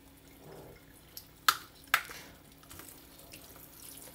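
Hot water from a weak-pressure tap runs over an iPhone 11 Pro Max and a Samsung Note 10 Plus to thaw ice, a quiet steady trickle broken by two sharp knocks.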